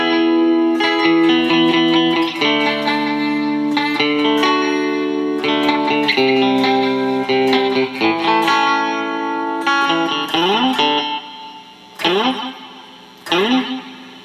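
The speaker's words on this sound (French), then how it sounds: "Fait que là, ça serait supposé être un reverb à l'envers." Electric guitar played through an Amplitube 5 reverse reverb effect, its notes swelling up backward into each attack, ringing and layered, with short silent gaps near the end.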